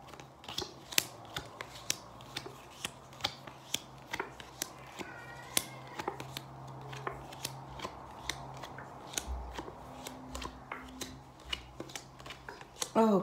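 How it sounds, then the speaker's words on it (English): Tarot cards are laid out in rows, giving a run of soft, crisp snaps and taps at an uneven rhythm, close and quiet, with faint background hum. "I'll be laying 4 rows of 4 cards each. I'll do that now"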